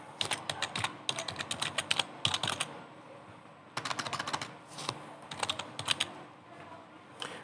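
Fingers tap out a word on a computer keyboard in quick clustered bursts with short pauses, close and crisp keystrokes against a quiet room.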